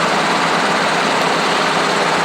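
A small training aircraft's engine is run up to higher RPM before takeoff, a loud, dense, continuous roar with steady vibration close by.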